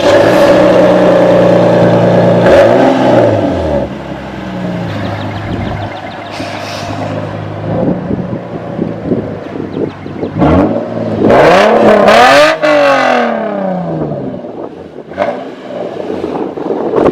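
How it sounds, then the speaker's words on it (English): A 15-year-old's custom-fabricated exhaust on a Mazda Miata, fitted with an electronic cutout, barks through several loud revs that rise and fall close by, with a steady idle between bursts and no talking. "Has an electronic cutout on it so I can be quiet or loud."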